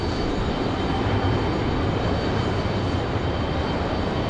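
A United Express airliner at Raleigh-Durham makes a continuous, even jet rumble with broadband hiss, fairly close and unbroken, with no voices.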